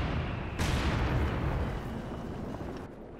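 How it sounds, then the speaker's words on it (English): A mortar firing in Company of Heroes 2, a single heavy launch thump followed by a long rumbling decay over constant battlefield noise. "Fresh mortar put up from Guard2707, exact same position."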